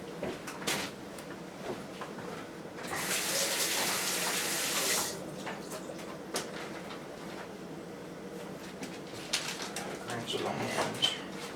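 Tap water runs while rainbow trout are rinsed, a loud hissing gush lasting a couple of seconds amid handling clatter, with a voice heard speaking.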